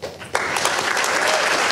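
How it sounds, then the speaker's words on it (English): Audience members at a distinguished speaker series lecture break into loud, dense applause that starts with a sharp onset and holds steady throughout. "Let's give her a round of applause"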